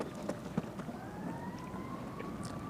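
A siren wails faintly in the distance, its tone rising slowly, over a hissing outdoor background near a parking lot.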